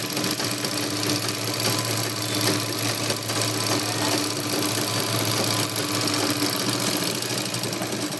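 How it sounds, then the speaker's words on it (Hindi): A sewing machine stitches the sleeve of a blouse with a steady, fast, even mechanical chatter that runs the whole time at a moderate level, with no talking over it. "ये आस्तीन की स्टिचिंग हो रही है।"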